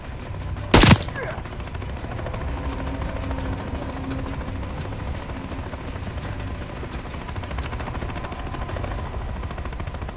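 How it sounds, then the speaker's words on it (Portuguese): In Call of Duty Modern Warfare III, a single loud gunshot-like crack opens, followed by a steady, continuous helicopter rotor drone that persists throughout at moderate level. "Tô vendo um helicóptero."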